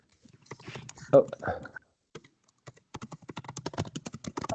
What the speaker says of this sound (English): Someone is typing at least.